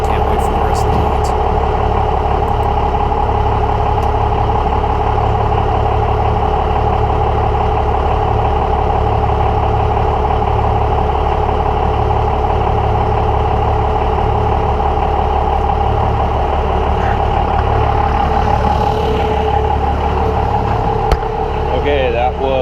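A 12-valve Cummins diesel truck engine idles steadily after a cold start at about 30 degrees, a loud, even rumble with a constant low throb and clatter throughout, close by and alone.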